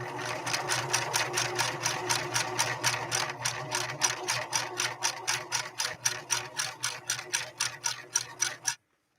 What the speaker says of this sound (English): Just lay down a zigzag on this outdoor carpeting.